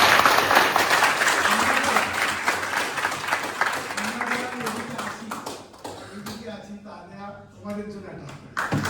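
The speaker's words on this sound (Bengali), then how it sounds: "তার জন্য আমাদেরকে একটা জোরে হাততালি দিতে হবে" An audience at a youth leaders' bootcamp applauds the speaker with loud, dense clapping that gradually thins and fades as a voice begins talking over the last scattered claps.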